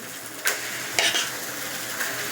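A batter of rava and bread hits an oiled pan with a loud sizzle that holds steady, broken by a few sharp scraping bursts as the mixture is spread.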